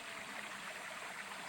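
Strongly flowing stream water rushes along the edge of a farm lot in Tagkawayan, Quezon, a steady broadband hiss close to the listener with no voices over it.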